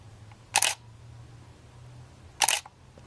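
Canon Rebel T6i (750D) DSLR shutter fires two separate times, about two seconds apart, each a crisp, close mechanical clack over a quiet background hum.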